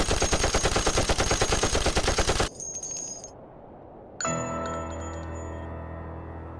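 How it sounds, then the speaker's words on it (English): Rapid automatic gunfire bursts loudly for about two and a half seconds, then cuts to near quiet before a sharp metallic ring and sustained tonal hum take over. "shoot the bastard?"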